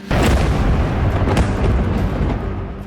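Heavy booming blasts from Israeli drone strikes on Beirut, Lebanon, a loud sustained low rumble with several sharp bursts and rolling reverberation, no voices heard.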